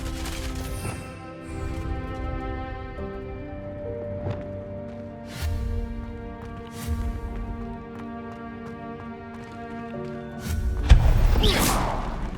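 A Confringo fire-blast spell lands in Hogwarts Legacy: several muffled blasts and thuds hit over sustained background game music, ending in a louder, harsher crash near the close.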